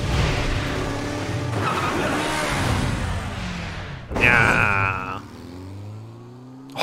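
A motorcycle engine roars continuously in a Resident Evil 6 cutscene, then a sharp skid screeches loudly midway and fades out, with no one speaking.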